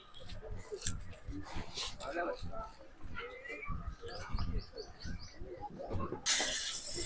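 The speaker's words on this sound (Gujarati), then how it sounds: "અવાજ ચાલુ થઈ ગયા છે ચકલીના" Sparrows chirp in a birdhouse: small, scattered tweets and calls come in short bursts at moderate distance, heard under steady talking throughout, with a louder hiss at the end.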